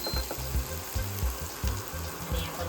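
Onion and tomato sautéing in a pan over a low gas flame, a soft sizzle broken by regular low scraping thumps of a spatula stirring, close and without talk.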